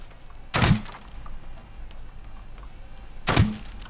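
Boxes get smashed in a parkour puzzle video game, two separate dull thunks with a brief crunch, about three seconds apart, close and moderate over a quiet background.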